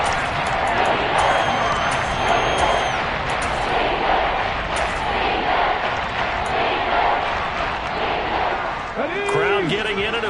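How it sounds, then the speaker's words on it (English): Stadium crowd at an NFL football game, a dense, steady roar that swells and stays loud throughout, with scattered shouts, thuds and whistles, and broadcast commentary talking over it. "Crowd getting in it a bit already."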